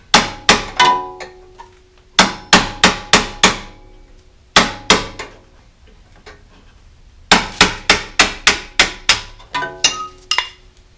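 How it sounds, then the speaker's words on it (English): A small hammer taps a metal punch against the tight plastic end piece of a lever on a Troy-Bilt 2410, sharp metallic strikes in quick bursts of three to five with short pauses between. "I'm using a punch and a small hammer to tap that off."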